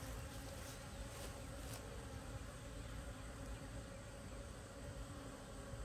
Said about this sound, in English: Here they come. Woo. Oh, little bees.